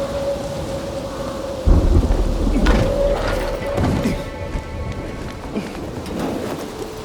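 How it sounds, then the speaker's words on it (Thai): Steady rain pours in the video game Dying Light 2 while a loud, close thunderclap rumbles in and slowly fades, with a faint tonal music hum underneath. "ฝนตกอีก"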